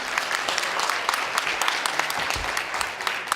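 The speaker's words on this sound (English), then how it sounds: "Give yourselves a round of applause for that." An audience at a college keynote claps in a dense, crackling round of applause, individual hand claps popping out of the steady wash for the full few seconds.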